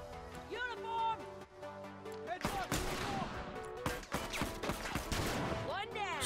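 Gunfire from a hunting rifle and a short-barreled shotgun rings out in a 1v1 multiplayer shooter match, several sharp shots in quick succession with echoing tails, under excited commentary and game effects.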